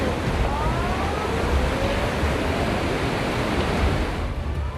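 Ocean surf roars as a steady, dense wash of broadband noise, with no distinct breaks or pauses through the whole stretch.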